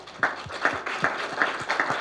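A small audience claps in a loose steady rhythm, about two or three claps a second, moderately loud and close, for roughly two seconds, with no voices over it.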